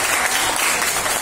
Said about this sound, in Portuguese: Vamos aplaudir o nosso amigo lá então.